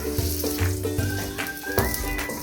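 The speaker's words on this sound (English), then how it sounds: "So you want to cook your onions until they are golden brown." Onions frying in vegetable oil in a pan, a close, continuous sizzle with occasional stirring scrapes, no talk over it.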